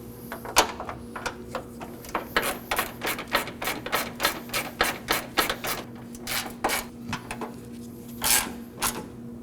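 A ratchet clicks rapidly as 10mm bolts on the radiator fan of a 2014-2020 Acura MDX are snugged down, in bursts of sharp close ticks, quiet and with no talking.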